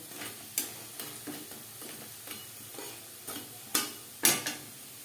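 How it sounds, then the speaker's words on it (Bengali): Besan pakora fritters frying in hot oil, a steady soft sizzle broken by sharp crackling pops that grow louder toward the end, with no voices. "পরের ব্যাচের পকোড়া বা বড়া একইভাবে ভেজে নেব"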